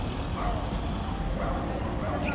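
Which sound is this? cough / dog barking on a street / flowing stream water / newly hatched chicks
dog barking on a street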